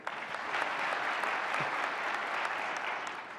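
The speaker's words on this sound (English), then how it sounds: "Applaud if you say economic freedom." Audience applause in a large conference keynote hall, a dense, even roar of many hands clapping that swells in and holds steady for several seconds before easing slightly, with no talking over it.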